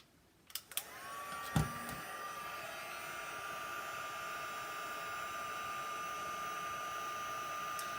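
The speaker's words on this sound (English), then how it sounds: "I'm going to take 2 seconds and I'm going to heat set this." Embossing heat tool running steadily to heat-set embossing powder on a handmade flowering cactus card, a continuous whirring blow with a soft tonal whine, starting after a couple of light clicks and holding constant, close and moderately loud, no talk.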